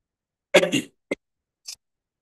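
One short cough from a person with a cold, close to the mic, followed by two faint, brief throat sounds in otherwise near silence.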